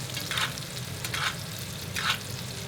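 Ribeye steak searing in a pan of melting butter, a steady soft sizzle with a few brief louder hisses and spits coming through at intervals.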